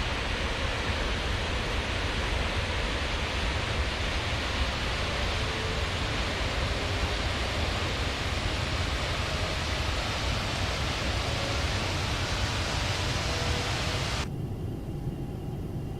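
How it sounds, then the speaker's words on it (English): Jet engines of a Boeing 747-8i in X-Plane 11 roar as a steady, loud, broadband rush, unbroken and even for many seconds before the sound abruptly cuts down near the end. "Oh, just listen to the pure power of this airplane."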